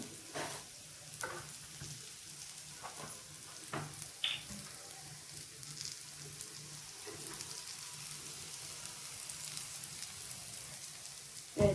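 Slices of bitter gourd (hagalkai) frying slowly in a little oil over a low flame, giving a continuous soft sizzle with scattered light pops and crackles, fairly close and with no one talking.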